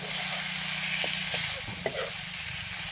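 Shevga (drumstick) masala vegetable being stirred and mixed in a pan, a steady low sizzle running throughout with a few soft scraping knocks of the spoon against the pan.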